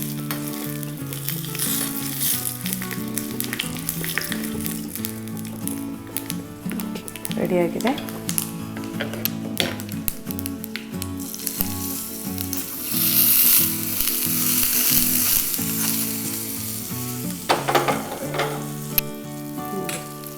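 Tempering spices crackle and sizzle in hot oil for a radish dish, a loud continuous frying hiss with stirring and clinks up close while a person speaks briefly over it.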